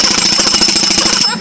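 A pneumatic impact wrench works on a threaded part of a motorcycle crankshaft, hammering loudly in a fast, steady rattle of rapid blows for over a second before cutting off abruptly.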